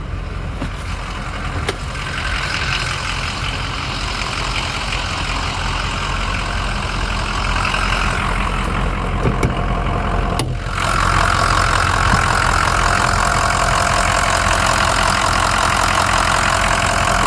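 A 2004 Ford F-250 Lariat's 6.0L Powerstroke diesel V8 idles steadily with the hood open, a loud, continuous clattering rumble with a faint ticking knock and a brief dip in the sound partway through.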